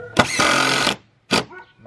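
ToolPro 18 volt power tool whirring at close range, one sustained high-pitched run of almost a second followed by a brief second burst, with a voice talking faintly in between.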